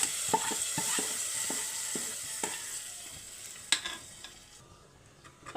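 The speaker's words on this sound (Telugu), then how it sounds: "అట్లా ఇప్పుడు పప్పులోకి తాలింపు వేసేసుకుందాం" A hot tempering of garlic, curry leaves and asafoetida is poured into tomato dal, setting off a close sizzle with scattered sharp crackles and pops that gradually fade as the oil settles.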